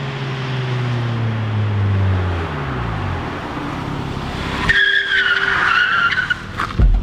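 A turbocharged front-wheel-drive Honda Fit drones as its engine note falls, then its rear wheels, sitting on fast food trays, break into a loud squealing skid for over a second before a brief final scrape.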